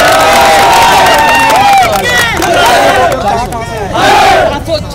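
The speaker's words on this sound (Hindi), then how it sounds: "आज इसलिए इतनी सारी भीड़ इकट्ठा हुई है उनके प्यार के लिए।" A large, dense crowd gathered at Mumbai airport for a grand welcome of Anant Ambani and Radhika Merchant, cheering and shouting loudly and continuously, with overlapping voices and surging calls throughout.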